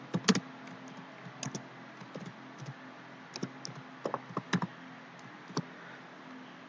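Typing on a computer keyboard sounds as irregular, close, crisp key clicks in short clusters over a quiet background.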